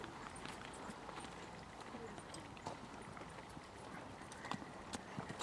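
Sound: horse hooves during a show jumping hunter round

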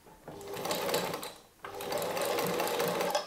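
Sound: sewing machine zigzag stitching along the outer fabric edge

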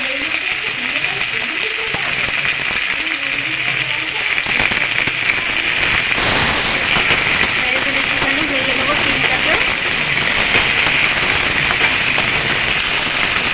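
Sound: frying shrimp and cut flat beans in a pan

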